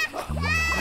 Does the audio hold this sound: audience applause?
no